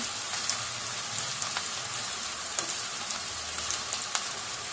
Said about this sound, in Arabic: بس هننتظر بس ابقوا معانا لغاية ما البصلة دي تتحمر شوية.